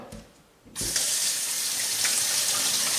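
A kitchen tap turns on and water gushes steadily into a sink for washing hands and organic kale leaves, with a loud continuous splashing rush after a brief quiet start.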